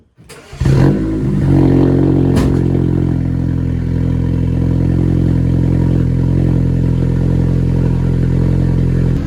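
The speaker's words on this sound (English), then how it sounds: "the first cold start for the Audi in probably 5 weeks" An Audi A5 S line engine cold-starts, cranking and firing up, briefly revving before settling into a loud, steady, rumbling idle close by.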